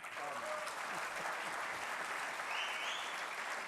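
Louder, steady audience applause at a World Brokers Day keynote, dense, even clapping from many hands sustained throughout without a break.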